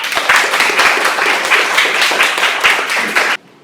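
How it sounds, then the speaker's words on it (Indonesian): A classroom of students claps together in a steady burst of applause that lasts about three seconds and then stops sharply, with no talking over it. "Kita berikan tepuk tangan"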